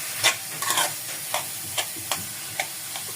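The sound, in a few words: mashed potatoes stirred into the pan for kulcha filling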